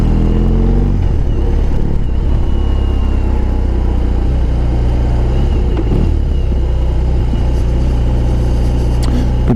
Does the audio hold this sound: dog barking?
no